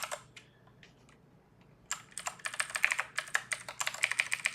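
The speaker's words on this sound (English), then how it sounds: "I keep typing the Discord thing for you." Typing on a computer keyboard: after a few scattered taps, a quick, irregular run of close, crisp key clicks starts and continues, with no talking.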